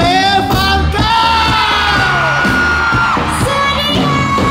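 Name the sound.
concert crowd screaming and cheering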